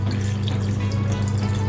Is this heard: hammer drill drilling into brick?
no